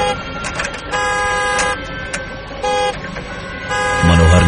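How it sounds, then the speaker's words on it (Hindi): A car horn sounds in a series of loud honks of varying length, blaring over a busy mix with talking, used as a sound effect in a horror story about a deserted road. "उस कार का हॉर्न ऐसे बजा जैसे कोई अंदर बैठकर बजा रहा हो।"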